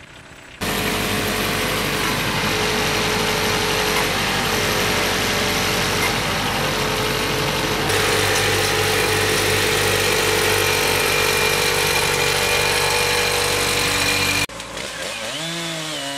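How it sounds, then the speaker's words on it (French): A band saw fitted with tungsten carbide teeth cuts through logs at a sawmill, a loud sustained whining drone with engine hum that runs continuously, then drops away abruptly near the end. "Une scie, ruban, à plaquettes de tungstène est utilisée."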